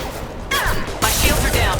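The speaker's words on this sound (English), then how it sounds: "Firing an impact shot!" Impact shot weapon fire in Mass Effect 2 Legendary Edition: two sharp, loud blasts half a second apart, with a dense crackling burst after the second.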